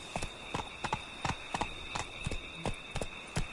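Roach, a horse in The Witcher video game, gallops with steady, close clip-clop hoofbeats in a repeating rhythm, heard alone over a constant high background tone.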